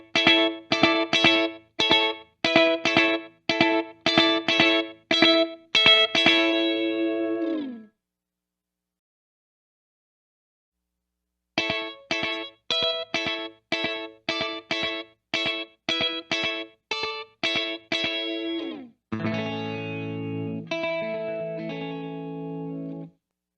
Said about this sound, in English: bring it back to the compact, and let's get a slapback kind of sound